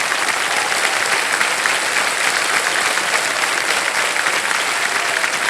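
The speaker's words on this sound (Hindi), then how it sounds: "तालियां बज जाएं इनके लिए" Dense, steady applause from a television quiz show studio audience fills the whole stretch, loud and even with no one speaking over it.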